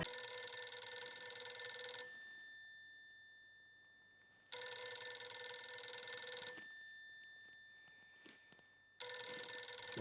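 A telephone rings in the Indian sitcom Taarak Mehta Ka Ooltah Chashmah, in repeated electronic bursts of about two seconds, each tone followed by a fading gap before the next, clear and alone in a quiet room.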